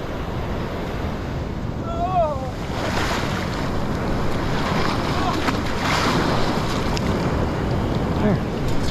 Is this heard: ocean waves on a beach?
yes